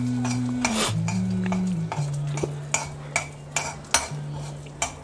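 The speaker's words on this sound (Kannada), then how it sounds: "ಸಾಸಿವೆ ಸಿಡಿಬೇಕು." Mustard seeds spluttering in hot coconut oil in a ghee-coated pan while cooking a Konkani potato fry, sharp scattered pops and utensil clinks over a low steady hum, no talking.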